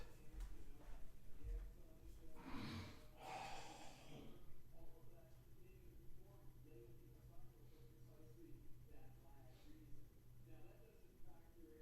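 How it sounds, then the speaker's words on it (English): A quiet room, then a couple of strong, breathy nose blows around the middle, followed by soft sniffs and rustling. "I'm going to blow my nose"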